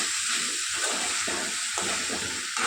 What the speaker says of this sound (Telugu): దొండకాయ ముక్కలు వేసుకుంటున్నాను. దొండకాయని కలుపుతూ వేయించుకోవాలండి.